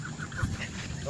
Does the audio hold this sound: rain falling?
no